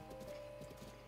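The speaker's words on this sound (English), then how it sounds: "should I go slow now or just walk? Like walk on the horse?" Horse hooves walking at a slow gait in the video game Zelda Breath of the Wild, a soft steady clip-clop over a constant low background hum, with no talk over it.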